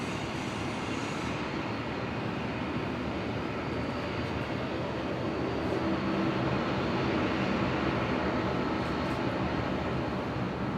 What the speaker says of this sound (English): Dash 8 Q400 just pulling into the bay on the Qantas link apron